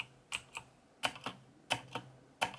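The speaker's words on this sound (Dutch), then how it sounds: "Hier hebben wij de Black Widow toetsenbord van Razer. En dit schatje is gewoon echt, ja, het mechanische toetsenbord van de eeuw." Keys clatter on a Razer BlackWidow mechanical keyboard in a small bedroom setup, sharp clicky strokes arriving in irregular pairs and bursts, close and fairly quiet with no talking.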